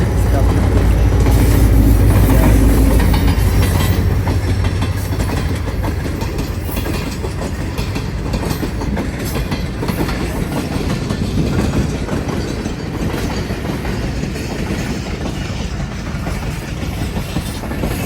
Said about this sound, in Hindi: फाटक का, और ट्रेन जा रही थी, इसका भी देख रहे हैं